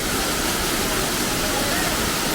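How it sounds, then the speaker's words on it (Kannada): Heavy water pours down at Adyar falls near Mangalore, a dense, unbroken roar heard up close and loud throughout. "ನೋಡಿ ಜಲಪಾತ."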